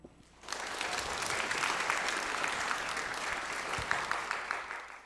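Loud, steady applause from a crowd at a school book concert event starts after a brief pause and carries on without letup to the end.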